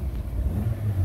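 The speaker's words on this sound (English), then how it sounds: "Let's rev her up." A 2012 Honda Civic LX engine runs with a low, steady rumble, fairly faint and close, with only slight swells in pitch and no sharp rev peaks.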